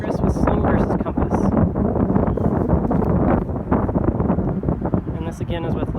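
Strong wind buffeting the microphone outdoors at a disc golf throw, a steady loud rumbling roar with gusty swells and occasional higher rustles, filling the whole stretch.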